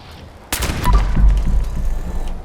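A charged Gauss pistol shot in Fallout 76: one loud, sharp blast followed by a heavy, rumbling low-end tail that lingers and fades over about two seconds.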